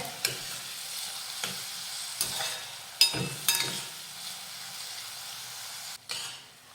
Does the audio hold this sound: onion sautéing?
yes